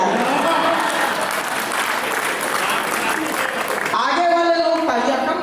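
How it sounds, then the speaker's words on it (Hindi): Applause from the audience at an all-India Hindi poetry gathering held in memory of a late former minister in Khariyar, a dense steady clatter of many hands for about four seconds before a voice takes over. "आगे वाले लोग तालियां कम बजा रहे हैं"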